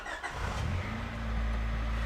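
A 1989 Honda Prelude engine cranks and catches, settling into a steady low idle rumble that grows louder and holds close by.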